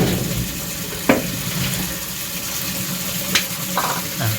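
A little water goes into rice being stir-fried in a pan, bringing a steady hiss and sizzle with a few brief splashy clicks and spoon knocks scattered through.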